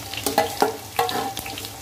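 Finely chopped onions hit hot oil after fenugreek seeds have crackled, giving a steady close sizzle broken by a few scraping stirs of a spoon against the pan.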